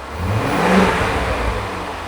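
A car engine revs up to about 3,000 RPM and holds there, a close, steady roar that swells briefly and then settles.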